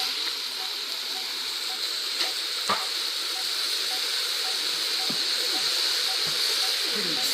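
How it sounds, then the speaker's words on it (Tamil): Ingredients sauté in oil in a pan, a soft steady sizzle with a few faint clicks and scrapes, heard alone at moderate distance. "இப்போ கொஞ்சம் எண்ணெய் விடுறேன் இப்போ அப்படியே எண்ணெயில் வதங்கி வரட்டும்"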